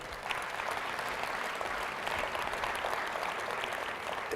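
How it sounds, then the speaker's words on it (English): A crowd at a Peach Bowl celebration event gives a sustained round of applause, a steady, even wash of many hands clapping throughout with no talking over it. "How about another round of applause for those guys?"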